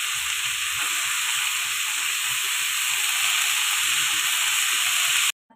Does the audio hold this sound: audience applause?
no